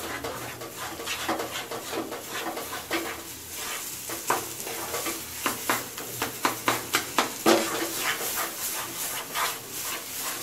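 A spoon stirs carrot halwa in a pan over a medium gas flame. Close, rhythmic scraping strokes grow quicker and louder midway, over a soft sizzle.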